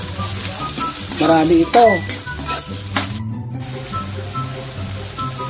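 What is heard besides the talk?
pork lungs frying in a pan for bopis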